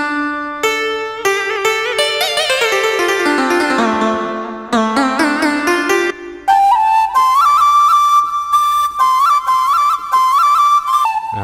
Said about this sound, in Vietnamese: thì cái tiếng sáo flute này lấy rất là hay